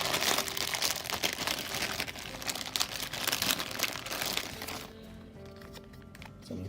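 Plastic packaging around a RIPE internet-measurement probe is opened up close, producing dense, irregular crinkling and rustling that fades to a few quieter handling sounds near the end.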